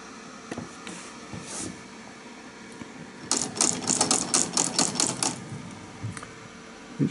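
A model of Robert Paul's experimental 35mm film projector mechanism running; a faint low hum with scattered clicks, then a burst of rapid rhythmic clattering for about two seconds before settling back to sparse ticks.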